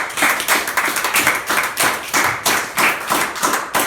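Congregation at a Spanish-language church service clapping together in a loud, steady rhythmic beat, roughly two claps per second, close and continuous with no voices over it.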